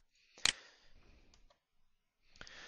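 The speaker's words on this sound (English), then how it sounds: "just hit the Enter key on the keyboard to create a little bit of a separation here" A single sharp key press on a computer keyboard, a crisp click near the start followed by a second softer tap, close and isolated in a quiet room.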